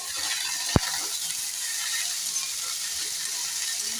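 Chopped carrot and cabbage fry in a pan as street-food style noodle bhel is made, giving a steady soft hiss of sizzling across the whole stretch, with one brief sharp click early on and no voices.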